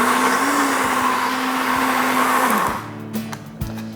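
Blender running loud and steady as it mixes a sauce with parmesan cheese and a little salt, its whirring motor whine cutting off near the end and leaving brief clatter.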